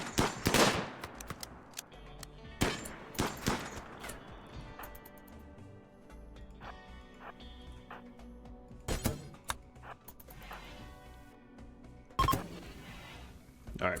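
Gunfire from colonists in the RimWorld video game crackles in short bursts of sharp shots, loudest near the start and at a few later moments, with softer game sounds and background music in between.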